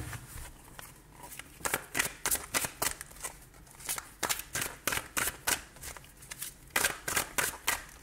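Tarot cards shuffled by hand in a quick series of crisp riffling bursts, steady and close, with short pauses between each pass and no talking.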